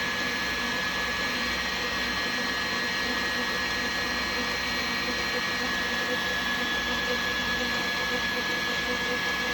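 A small electric mixer beats a chocolate marshmallow mixture in a bowl, a constant close whirring motor whine with a steady high tone that runs unbroken throughout.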